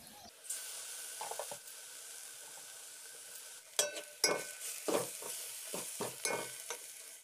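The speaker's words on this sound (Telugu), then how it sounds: "రెండు స్పూన్ల పసుపు మూడు స్పూన్ల కారం పొడి రెండు స్పూన్ల అల్లం వెల్లుల్లి నూనెలో ఉడికించాలి" Turmeric, chili powder and ginger-garlic paste frying in oil for a goat-leg curry, a quiet hiss that gives way to a handful of scraping stirs against the pan, close and moderately soft, with no speech.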